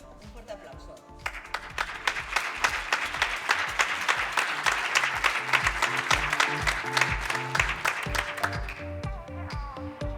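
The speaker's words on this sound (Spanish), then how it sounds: "Un fuerte aplauso." A hall audience gives sustained applause for an award winner at a research and innovation conference, many hands clapping densely and steadily for about ten seconds, swelling after a brief start.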